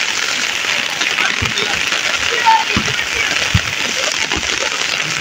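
Rain falls steadily over a village where children are playing, producing a dense, even patter across the whole stretch with a few faint knocks and splashes mixed in; no one speaks.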